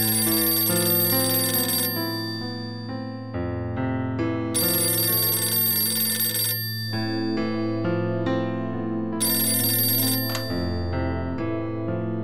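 A telephone rings in a Turkish sitcom household, a loud electronic ringtone repeating in regular bursts of trilling tones throughout, with no talking over it.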